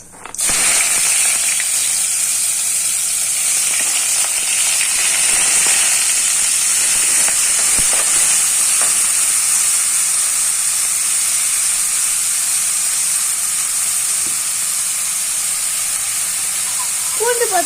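Steady frying hiss and crackle of onions in hot oil, with cumin, loud and continuous throughout, with faint clinks of a utensil.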